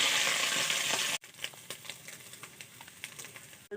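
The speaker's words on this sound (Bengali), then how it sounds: "পেঁয়াজ, আদা, লঙ্কা, রসুন পেস্ট করে ফ্রাই করে নিব গরম তেলে।" A paste of onion, ginger, chilli and garlic fries in hot oil, a loud hissing sizzle at first, then after a sharp cut a quieter spattering crackle with intermittent pops and stirring scrapes.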